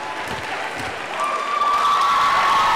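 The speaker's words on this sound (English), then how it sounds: "to a crowd cheering with tenacity" A crowd at the Sailfish Cup, an intra-hall competition with marching and dancing, cheers and applauds steadily, the noise swelling louder toward the end, with a sustained whistle-like tone rising above it.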